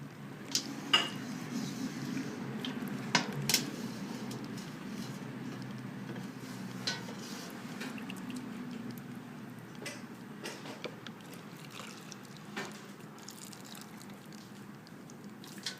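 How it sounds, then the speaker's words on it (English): Hot water poured into glass canning jars packed with green beans, a soft running trickle under scattered clinks and taps of glass and metal rings, close by and fairly quiet. "I'm just adding the hot water."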